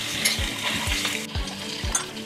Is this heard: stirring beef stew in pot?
yes